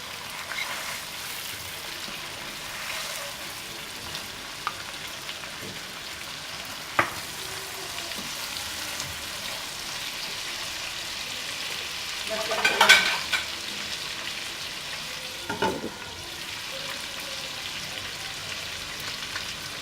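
Brain masala (bhejja fry) sizzling in a pan, a continuous soft crackle and hiss with a few sharper bursts of spattering and stirring scrapes, close and steady, no voice.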